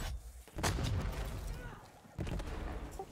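Gunfire in the game Borderlands 3 aimed at the player, two heavy booming bursts of shots with rumbling tails, one early and one near the end, fairly loud, with voices talking over them.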